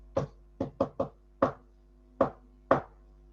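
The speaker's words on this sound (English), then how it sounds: "Mr. Happy knocked on Mr. Rude's front door." Seven sharp knocks on a front door in two groups: four quick raps, then three spaced knocks, close and clear with no voices.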